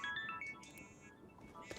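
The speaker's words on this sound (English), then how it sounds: "That is my alarm" A phone alarm rings in short, repeating electronic tones, fairly faint and alone with no talk over it.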